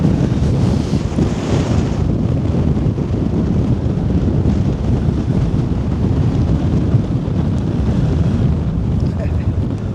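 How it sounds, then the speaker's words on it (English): Strong, gusty wind buffets the microphone at an exposed autumn wild-camp spot on moorland, a loud, continuous roar with surging gusts and no let-up throughout. "Much more windy today, lots of powerful gusts"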